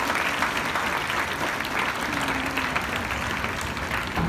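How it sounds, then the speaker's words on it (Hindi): A school audience claps loudly and steadily throughout, a dense, sustained burst of applause with no break. "जोरदार ताली बजाओ मास्टर के लिए।"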